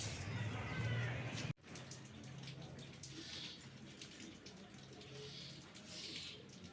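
Water runs steadily while someone bathes at home, a continuous close splashing wash that carries on with brief louder bursts and a short break near the start.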